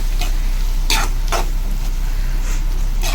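Ginger garlic paste sautéing in a pan for prawn curry, a steady loud sizzle with a few sharp scraping stirs of a spoon against the pan.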